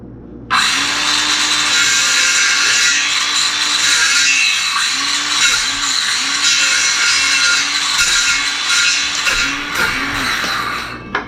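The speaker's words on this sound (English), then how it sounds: "I love circular saws way better than sawzalls anyway" A circular saw cuts a gingerbread house, its motor whining loudly and steadily for about ten seconds, with the pitch dipping and recovering as the blade bites.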